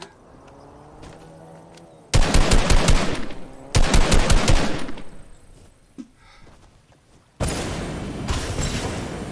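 Gunfire in the Fortnite video game: loud bursts of rapid automatic shots in three separate volleys with short quiet gaps between them, close and with no speech.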